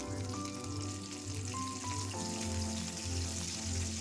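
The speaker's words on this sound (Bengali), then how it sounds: "তেলের মধ্যে দিয়ে দেবো চেরি টমেটো" Cherry tomatoes fry in hot oil in a pan after the paneer has been fried in it. A steady, even sizzle hiss runs throughout, with a faint tonal hum underneath.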